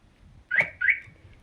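A StarLine S9 V2 alarm on a 1992 Porsche 911 gives two quick, bright electronic chirps close by as it disarms, each short and clear, with near silence before and after.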